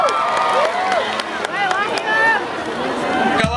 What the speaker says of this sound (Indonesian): Tepuk tangan buat Mas Marsal.